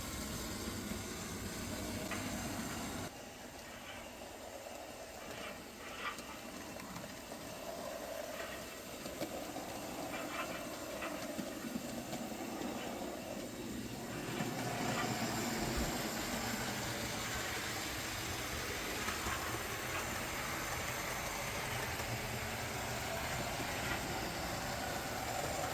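A model railway locomotive runs on a loft layout track, giving a steady faint mechanical hum and rolling rumble throughout, with soft clicks of wheels over rail joints and no talk.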